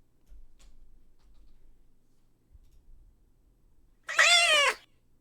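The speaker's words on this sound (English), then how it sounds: "Let's maybe just turn off the cat noise." A single clear cat meow plays as an alert sound on a livestream, short and fairly loud, after several seconds of near silence with faint low thumps.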